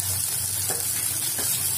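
Tomatoes cook in a pan for a vegetable pulao with a steady, even sizzle and a couple of faint stirring touches, close and with no voices.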